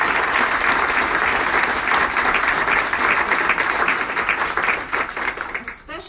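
A crowd applauds steadily and loudly for several seconds, the dense clapping easing slightly just before the end.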